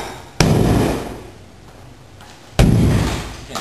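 A 2.5-pound maul strikes a 3mm (1/8-inch) plywood boat hull twice, each blow a loud, sharp hollow bang that rings and booms briefly before fading, with no talking.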